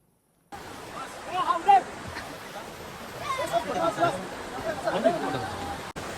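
A waterfall at Kolad on the Konkan coast gives a constant broad rushing roar, while several people chatter nearby over the water noise.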